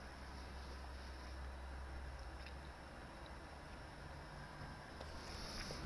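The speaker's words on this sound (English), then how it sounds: "Sorry if you can hear a fan like really goddamn loud in the background." A game console's cooling fan fills the background with a steady, loud whir, broadband and unchanging throughout, with a low rumble underneath.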